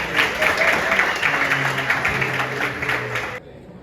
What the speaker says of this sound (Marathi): सर्वांनी टाळ्यांचा गजर स्वागत करा.